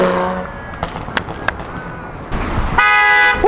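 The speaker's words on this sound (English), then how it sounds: "Please, please, honk one time." A car horn honks with a sustained tooting blast toward the end, following a few sharp knocks and street noise.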